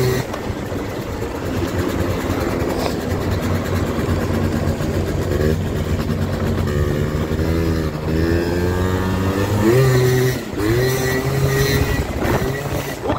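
A small modified Honda Tact 80cc scooter engine revs loudly and continuously, pitch rising and falling through several throttle bursts, with a brief drop near the end before revving again.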